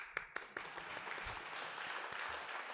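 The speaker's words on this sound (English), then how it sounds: "Give me a proper clap." Audience applause at a multisectoral research, science and technology conference, a few sharp individual claps at first, then a steady, fairly faint wash of clapping from a crowd heard at a distance.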